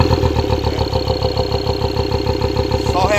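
A 2013 Ford Ranger engine runs at a steady, loud idle with a fast even pulse throughout, after a repaired front cover and fresh original engine oil.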